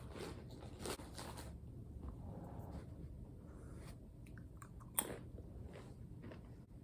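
Quiet close chewing and crunching of a crunchy snack that tastes like croutons, soft steady mastication with a sharper crunch near the end, no talking.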